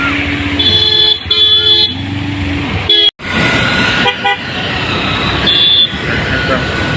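Busy road traffic crawls past with motorbikes and cars, engines droning close by while repeated car and bike horns toot in short and sustained blasts, with voices talking over the noise.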